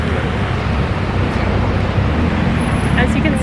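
Dense road traffic rumbles continuously on flooded streets in Colombia, a loud steady wash of engines and tyre noise with faint voices mixed in.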